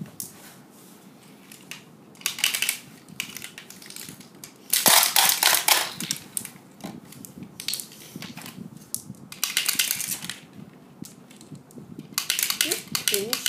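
A Cross Fight B-Daman CB-37 Twin Magazine toy fires marbles in a string of sharp plastic clicks and snaps, close by, in uneven bursts with louder clusters, while a person talks faintly in the background.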